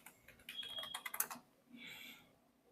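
Quiet typing on a computer keyboard, a quick run of light key clicks lasting about a second, followed by a soft brief rustle in an otherwise quiet room.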